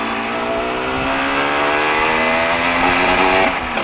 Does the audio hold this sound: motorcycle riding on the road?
yes